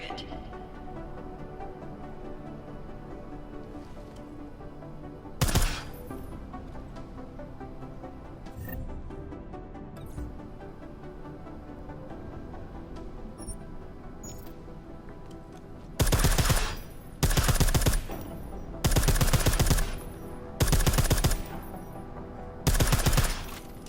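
Suppressed gunfire in the video game Deus Ex: Mankind Divided: a few isolated muffled shots early, then several loud bursts of rapid fire later over a quiet game ambience.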